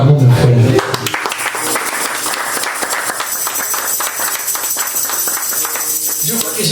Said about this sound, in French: Acclamons mes frères.